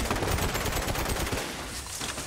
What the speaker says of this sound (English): This is a cannon. It's more like a shotgun, is it not?